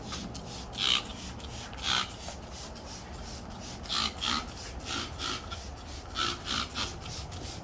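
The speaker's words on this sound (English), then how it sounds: "You scrub, scrub." Repeated rasping scrub strokes rub across a surface while a vacation home is cleaned, about a dozen uneven bursts over low background noise.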